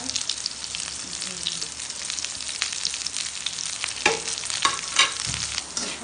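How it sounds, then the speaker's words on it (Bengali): Whole spices (cloves, cinnamon sticks and cardamom pods) fry in a pan after chilli and garlic, giving a steady close sizzle with scraping stirs and a few sharp crackles toward the end, no voices. "সব কয়টা মশলা ভাজা শেষ"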